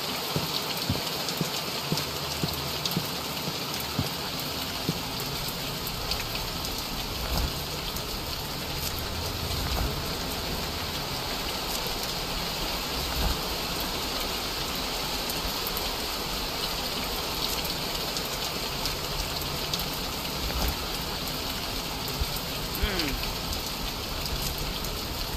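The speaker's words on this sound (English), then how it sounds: "God, and it's gotta be raining." Rain in The Mortuary Assistant horror video game, a dense, continuous downpour hiss that stays loud and even throughout, with a faint voice occasionally beneath it.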